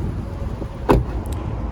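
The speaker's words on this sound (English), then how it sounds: "Very nice solid thunk of the door." The door of a 2018 Lexus IS300 closes with a single solid thunk, near and brief, against a steady low background hum, followed by two faint clicks.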